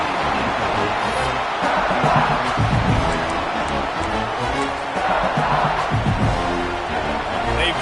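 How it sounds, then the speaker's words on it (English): A football stadium crowd roars at a Georgia versus Alabama game, giving a continuous loud wash of cheering and yelling that rises and falls slightly, with a commentator talking over it. "This crowd ready to make its presence known"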